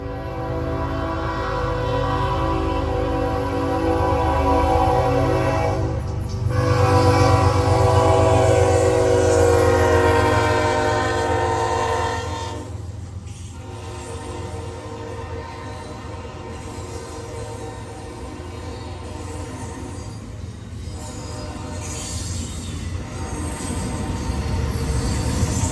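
A Norfolk Southern train rolls past on the Charlotte District, its horn blaring in long sustained blasts over heavy rumbling wheels and clanking cars, loud and close throughout with no talk.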